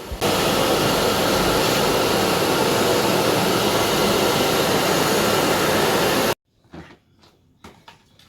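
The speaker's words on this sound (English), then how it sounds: "This vacuum cleaner catches the spider web and spider too." A Philips PowerPro FC9352/01 bagless vacuum cleaner roars loudly and steadily at close range for several seconds, then cuts off abruptly, leaving faint clicks and handling noises.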